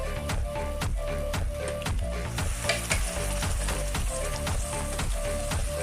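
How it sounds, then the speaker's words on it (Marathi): Chicken going into a hot pan of spicy dry chicken masala and frying, a loud close sizzle with repeated scraping stir strokes in a regular rhythm, no talk. "आता चिकन त्यामध्ये टाकायचं."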